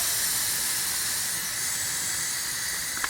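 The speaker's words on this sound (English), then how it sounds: "it's a pretty bad leak. You can hear it, hear the air coming out." Air escaping from a bad leak makes a continuous, even hiss, close and moderately loud, with no pauses and a small tick near the end.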